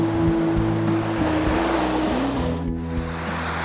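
Water drains out of a canal lock with a continuous loud rushing roar, broadband and steady, overlaid by a low engine hum and gusty wind buffeting the microphone.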